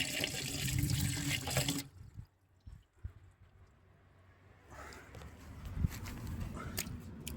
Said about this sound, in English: let's pour some water down there